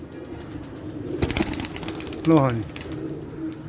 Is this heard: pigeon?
yes